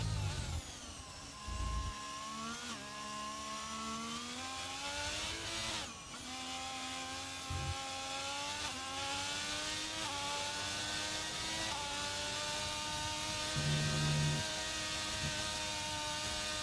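An Alfa Romeo race car engine in a racing game at the British Grand Prix, revving hard with rising and falling pitch sweeps through gear changes, close and continuous for the whole stretch.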